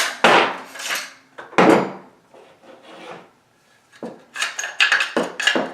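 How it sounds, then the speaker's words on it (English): A Mossberg 500 shotgun bolt being slid out during disassembly, with metallic scraping and rubbing in short bursts, close up and loud with brief pauses between. "Slide the bolt out."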